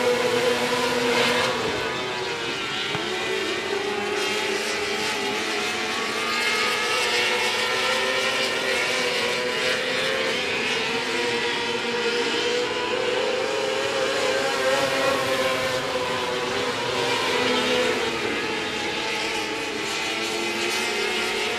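Race cars roar around a speedway oval as racing resumes after a red flag, a dense continuous engine drone with rising and falling revs from several cars at mid distance.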